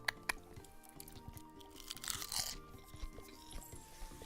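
Crunchy seaweed snack chewed close to the microphone, with soft irregular bites and a louder crunching burst in the middle, faint background hum, no talking.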